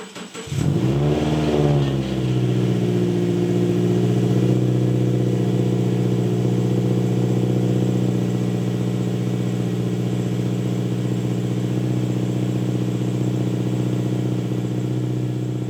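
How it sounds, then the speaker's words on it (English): A Subaru car with an FB20/FB25 engine cranks and fires up, revving briefly as it catches, then settles into a steady, close idle that runs on without interruption. "So I'm gonna start the car"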